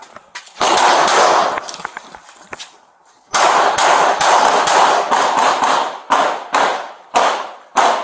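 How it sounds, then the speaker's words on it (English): Rapid bursts of gunfire from a suspect shooting out of a northeast window at police, loud and close, with clusters of sharp cracks and echoing decays coming in irregular volleys. "He's shooting out the window at us."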